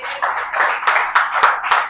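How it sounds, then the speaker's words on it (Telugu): A church congregation at a Telugu Christian service claps loudly in a quick, steady rhythm. Sharp, close hand claps repeat about every quarter second, with no voices over them. "గట్టిగా చప్పట్లు కొట్టండి"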